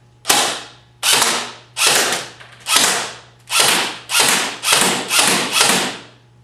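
A Classic Army M15A4 airsoft rifle fires semi-automatic: nine sharp, loud mechanical shots close by, each with a short ratcheting decay, spaced about a second apart and quickening toward the end.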